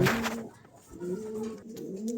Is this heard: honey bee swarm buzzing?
no